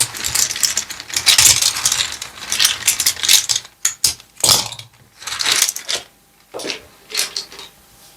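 Wooden pieces of an olive-wood oracle set clatter and click as they are shuffled and handled, in irregular bursts of close, crisp knocks with short pauses between.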